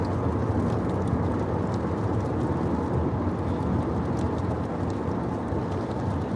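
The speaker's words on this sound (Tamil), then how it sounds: "இங்கே மழையை பாருங்கள் வா செம்ம மழை பெரிய பெரிய மழை" Heavy rain beats down while a car drives on the M40 motorway in the UK, a dense, steady roar of rain and road noise that holds at the same level throughout, with no voices.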